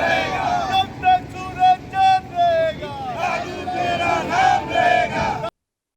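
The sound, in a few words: large crowd gathered for martyred soldier's funeral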